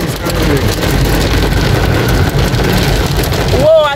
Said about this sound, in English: See, it's raining. It's a rainy day.